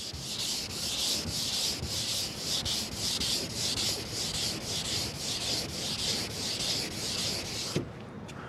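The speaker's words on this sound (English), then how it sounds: "The paper lasts a lot longer though when you wet sand it" Steady, rhythmic rasping of sandpaper on a block rubbed back and forth over a car body, loud and close, with no talking.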